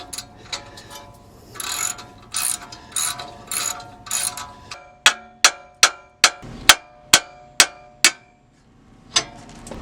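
A ratchet fitted with a deep socket works on Honda Ridgeline suspension bolts during a leveling-kit install: a series of quick clicking strokes, then a run of sharper, evenly spaced single clicks, close up with no talking.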